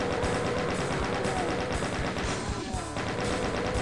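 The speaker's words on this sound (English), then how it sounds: "I use the chain gun here to mow down the gunners." Chain gun firing in the Doom level No Rest For The Living, a rapid, steady stream of loud shots running without a break through the whole stretch, with heavy action noise and no speech.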